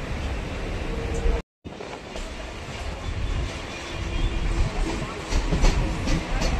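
A Sealdah local train rolls into Baranagar Road station with a steady rumble and clickety-clack of wheels on rails, briefly cut by a short dropout.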